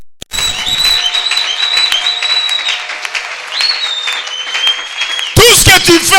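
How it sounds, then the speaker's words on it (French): Applause from a church congregation during a communion service celebrating God, clapping under a sustained sung or spoken tone, with a sharper burst of claps near the end. "célèbre Dieu par les acclamations."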